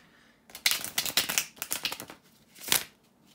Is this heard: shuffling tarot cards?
yes